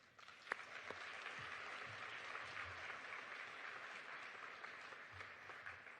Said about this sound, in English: We get a round of applause for our students.